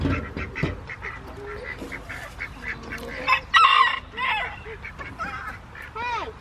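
Easter egger chickens cluck and squawk nearby in a farmyard, with honking, goose-like calls from other poultry rising in uneven bursts and a voice speaking briefly among them.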